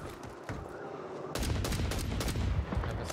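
Gunfire in Call of Duty Warzone: after a quieter stretch with a single crack, a sustained burst of rapid automatic shots breaks out and keeps rattling close and loud to the end.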